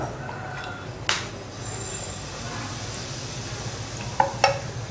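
Fermented uttapam batter poured onto a hot pan, a steady close sizzle with a few brief ladle clicks, no talking.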